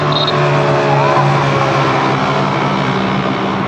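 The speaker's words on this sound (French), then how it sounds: "Il y a des mecs qui passent à fond en scooter d'ici, là, en 125." 125cc scooters speeding past on a street near Halong Bay, Vietnam, a loud close engine roar that sweeps by and lingers in a continuous rumble with a brief high whine at the start.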